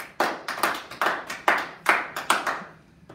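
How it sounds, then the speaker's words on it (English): Applause from a small group in a room: about eight to ten separate sharp claps, fairly close and moderately loud, with no talk. "So we're going to give you a round of applause."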